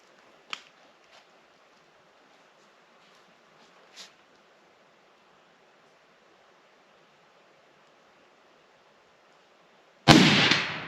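A rifle fires CheyTac .375 ammunition at an AR500 steel plate: after a few faint ticks and a quiet stretch, one loud, sharp blast erupts near the end and rings on to the close.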